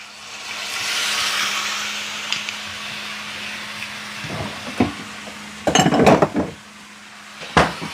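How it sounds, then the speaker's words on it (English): White wine poured into a hot pan to deglaze, with a steady hiss that settles, then clattering pot and utensil knocks and scrapes close by. "We're going to deglaze."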